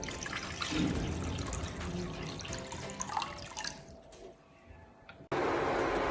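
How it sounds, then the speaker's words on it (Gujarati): About five cups of water go into a wide kadai for rasgulla sugar syrup, a continuous splashing pour that tapers off and then gives way to a brighter rushing hiss near the end. "એમાં આપણે પાંચ કપ જેટલું પાણી નાખીશું"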